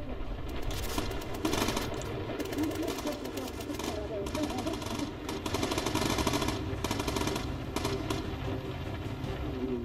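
Rapid, steady gunfire from a bomber's turret in the game Bomber Crew rattles on continuously under engine drone, with bursts growing louder at times while someone talks over it.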